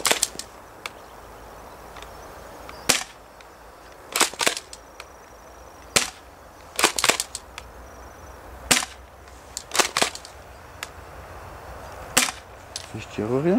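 An airsoft M56B shotgun replica fires BBs outdoors in light snow, a series of sharp, loud cracks spaced irregularly, some in quick pairs, with quiet gaps between shots.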